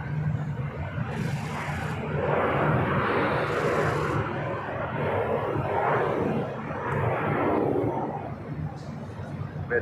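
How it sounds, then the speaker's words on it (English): A Hawaiian Airlines heavy jet rolling for takeoff on runway 24 left at LAX, a distant broad engine roar swelling and fading unevenly against the background. "Hawaiian flight 9 now rolling down, 24 left"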